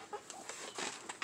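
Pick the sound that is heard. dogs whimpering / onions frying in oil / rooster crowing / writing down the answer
rooster crowing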